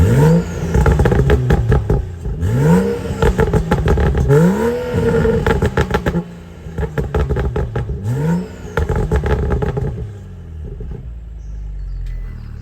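A tuned BMW 435i running an MHD Stage 2 burble tune revs repeatedly, with loud rising sweeps, rumbling crackles between blips, and a quieter idle at the end.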